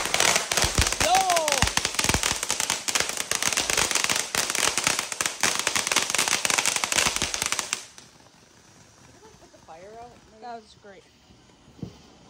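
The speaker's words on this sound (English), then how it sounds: "Hey guys, we're doing fireworks." Fireworks and firecrackers going off at a backyard Independence Day celebration, a dense run of loud crackling bangs and bursts for most of the clip, then a quieter stretch with scattered pops, whistles and people talking and calling out.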